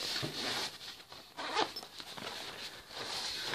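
A zipper is drawn open on a soft carrying pouch holding a clamp meter, a close, fairly quiet ripping zip with short pauses and a few handling rustles.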